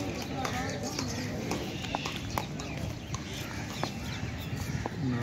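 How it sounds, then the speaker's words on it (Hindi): Horses' hooves clip-clop at Lake View Park in Islamabad, where horses and camels wait to carry riders. Irregular hoof knocks sound under constant nearby talking, with birds clucking faintly in the background. "ये देखें बड़ा ही ज़बरदस्त घोड़ा है"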